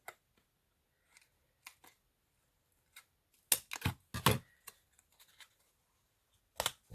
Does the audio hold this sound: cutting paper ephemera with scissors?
yes